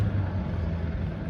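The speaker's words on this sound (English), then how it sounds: "There's another one of those little truck guys that goes around bothering everybody with his noisy truck." Loud, modified pickup truck rumbling past close by, a steady low engine drone with no talk.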